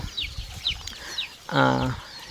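Fifteen-day-old chicks forage with faint repeated peeping, and a louder clucking burst from a hen or rooster sounds near the end.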